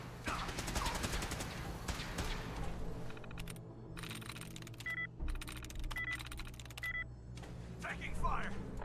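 Rapid gunfire bursts ring out in Fallout 4 during a Railroad Mass Fusion mission, with repeated volleys over a steady low drone while a voice speaks.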